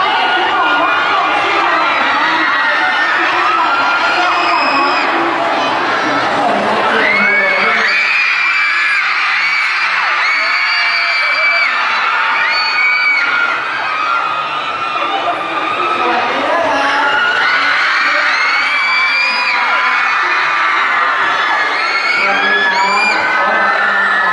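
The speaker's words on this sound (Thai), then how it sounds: "จากเสียง กรี๊ดจากบรรดาแฟนคลับของสี่นักแสดงหนุ่ม" Fans of four young film actors scream and cheer at a Robinson department store event in Roi Et, a dense, loud crowd of shrill whoops and yells that goes on without a break.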